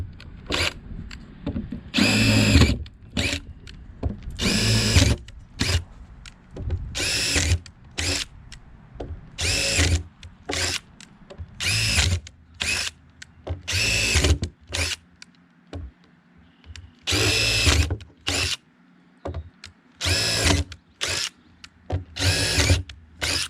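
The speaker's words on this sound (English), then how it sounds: "we're just drilling holes in the bottom where when it rains" Power drill boring drainage holes through the bottom of a tub for a raised garden bed, in repeated short whirring bursts separated by pauses, close and fairly loud.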